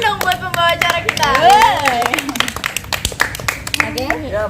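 A small group of students recording a class podcast claps for their host, scattered uneven hand claps mixed with lively talking and laughter.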